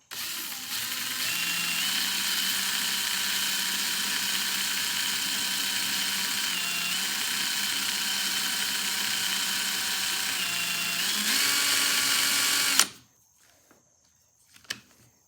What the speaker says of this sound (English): It's wiggling because it's in the drill